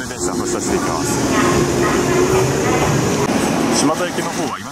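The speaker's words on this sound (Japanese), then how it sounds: "満員の黒船電車発車していきます。" A crowded Kurofune train pulls away from a station with a rising rumble and rattling wheels, while muffled voices and station noise fill the background.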